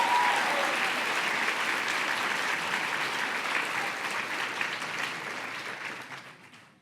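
Sustained audience applause for a women's chorus at an opening welcome event, steady and dense at first, then thinning and fading out over the last second.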